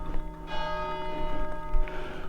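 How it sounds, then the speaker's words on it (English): Church bells ring steadily with sustained metallic overtones near the Cotswolds, heard outdoors at moderate distance over low background noise. "The bells, Johnny."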